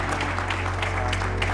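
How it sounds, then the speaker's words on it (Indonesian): Audience applause at a studio show, a short burst of steady, close clapping with a low hum underneath. "tepuk tangan dong buat kasih semangat buat dia"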